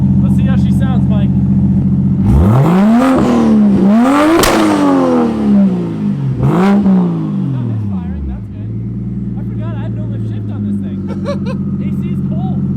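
Barra-engined Ford Mustang GT350 with a new exhaust, idling and then revving hard several times in rising and falling sweeps, loud and close, before settling back to a rough idle; no talking.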